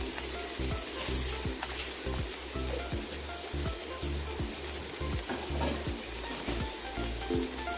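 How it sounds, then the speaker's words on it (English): Mixed vegetables sizzle and fry steadily in a hot pan while being stir-fried for a seafood teriyaki stir fry, a continuous crackling hiss broken by repeated scraping and tossing strokes, with no talking. "we are going to add all the veggies"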